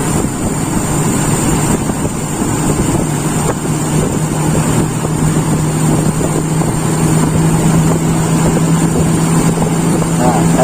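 Carbureted Toyota Kijang engine with an undersized primary jet being revved: a loud, steady, rough engine roar sustained close to the microphone, with a faint voice beneath it.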